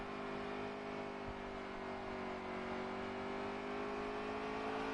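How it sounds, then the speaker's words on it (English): A race truck engine in the NASCAR Heat 3 racing game holds a loud, steady drone that climbs gently in pitch as the throttle opens, running continuously without talk. "Yeah, he's not really getting fully onto the gas until he's off the exit."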